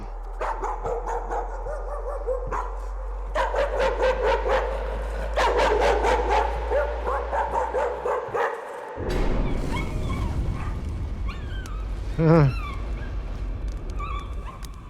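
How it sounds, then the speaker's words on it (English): A dog barking in the VR horror game Layers of Fear VR: a rapid, regular run of loud barks that grows more intense, then a drawn-out whining howl near the end over an eerie droning background. "It's a dog."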